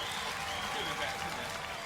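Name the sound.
studio audience applause at Robot Wars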